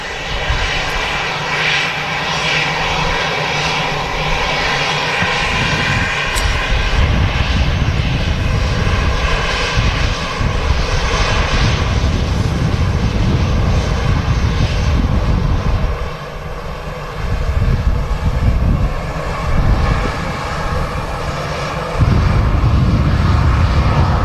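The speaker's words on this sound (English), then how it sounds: "Lingus A321 Neo, the JFK flight, is just on the taxi out now" Aer Lingus Airbus A321neo jet taxiing out at Manchester Airport, a loud, steady engine roar with a high whine throughout, swelling and dipping slightly as it rolls, heard from nearby.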